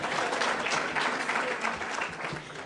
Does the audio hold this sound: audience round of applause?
yes